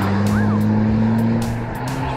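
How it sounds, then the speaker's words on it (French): A Porsche passes close to a cyclist on a road beside a canal, its steady engine drone and tyre roar loud and sustained throughout, with no talking. "Je fais doubler par une Porsche."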